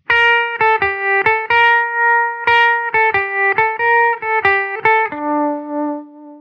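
An electric guitar plays a sequence of sustained, distorted notes through a Jam Pedals Harmonious Monk V2 set to sine-wave amplitude modulation, each note pulsing in volume before the last one rings out and fades.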